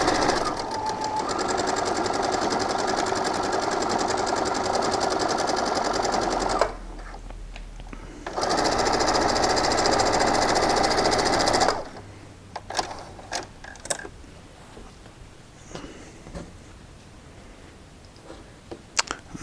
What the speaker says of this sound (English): I'm just making sure that I've got a nice seam allowance set up for my 1/4 inch. And I'm going to sew on these sides.